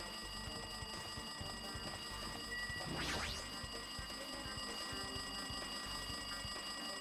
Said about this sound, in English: that freaking alarm clock is annoying